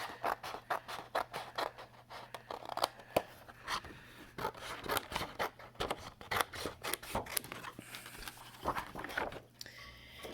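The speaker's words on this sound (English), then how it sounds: "But I'm going to go ahead and cut this to size." Scissors cutting card to size during card making, a run of crisp, repeated snipping strokes at close range, irregular in pace with short pauses between cuts and light paper rustle.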